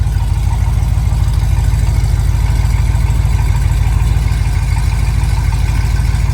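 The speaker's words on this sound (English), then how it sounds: "I think the cherry bombs sound pretty awesome" A 1984 Chevy one-ton wrecker idles through Cherry Bomb mufflers, its engine a steady, loud, deep exhaust rumble that holds constant throughout with no voices.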